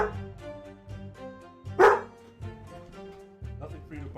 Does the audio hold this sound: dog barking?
yes